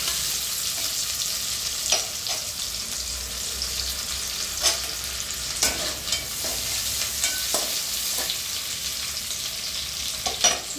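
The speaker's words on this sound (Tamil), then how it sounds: "இந்த துருவிய இஞ்சி கொஞ்சம் நல்லா ஃப்ரை ஆகட்டும்." Grated ginger frying and being stirred in a pan for vegetable biryani, a steady close sizzle with scattered spoon scrapes and clicks, no voices.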